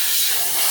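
Compressed air gun blasting a steady, loud, close hiss of air while cleaning the interior of a Nissan Qashqai, continuous throughout with no talk.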